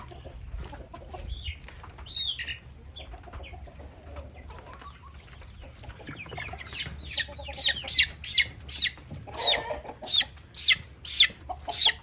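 Hens cluck and squawk inside a chicken coop, with scattered calls early, then a run of loud, rhythmic clucks building up close by.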